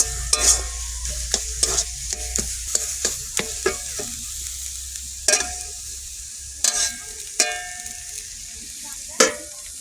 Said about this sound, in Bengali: নারকেল দিয়ে কচু শাক রান্না হচ্ছে